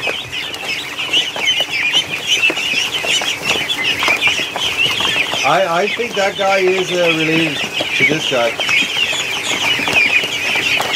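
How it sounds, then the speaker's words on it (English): Indoor Muscovy ducks and geese keep up a dense, constant chorus of high peeps and calls, with one clearer drawn-out honking call rising partway through; someone talks briefly over the flock. "It's ducks everywhere. Look at the size of my geese though."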